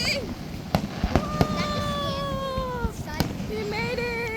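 Fireworks at Niagara Falls at night, sharp cracks and pops bursting irregularly at a moderate distance, with whistling rockets rising and excited voices calling out over the display.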